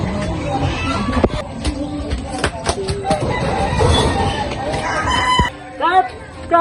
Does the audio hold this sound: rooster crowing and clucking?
yes